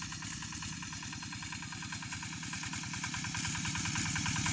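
An engine-driven water pump running nearby in a farm field, a loud, steady chugging drone with a fast regular pulse throughout.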